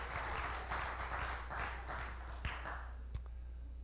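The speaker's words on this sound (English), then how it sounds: "Go ahead. You can clap. Give it up." Men in a church congregation applaud at a seaside church service, a dense steady patter of clapping swelling in waves, fairly faint and distant, with a couple of sharper taps near the end.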